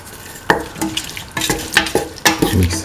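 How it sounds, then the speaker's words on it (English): A spoon stirring salt into a simmering winter melon, tomato and green pea stew, with several distinct scraping, clattering strokes against the pot over a soft sizzle and no talk. "mix the salt into the mixture"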